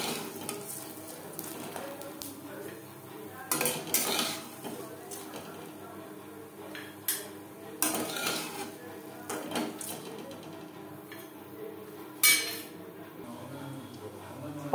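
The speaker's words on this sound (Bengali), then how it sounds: "একটা পাত্রে উঠিয়ে দেব।" Crisp fried jute leaf pakoras are lifted from the pan into a dish, with several sharp utensil clinks and scrapes spaced apart over a faint background sizzle.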